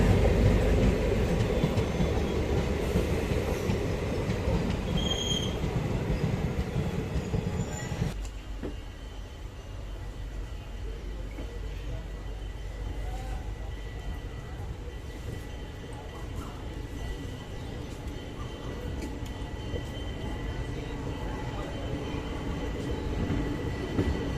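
Kashipur–Kasganj passenger train running on its rail journey, with a steady loud rumble of wheels and carriage noise throughout; the sound drops somewhat after the first few seconds and then continues evenly.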